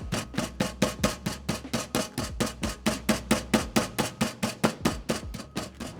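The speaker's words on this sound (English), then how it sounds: "I'm not trying to pound it out super ultra thin" Chicken breast pounded thin on a board, working from the middle outward: a steady run of about twenty-five sharp, evenly spaced thuds, close and loud, with no talking.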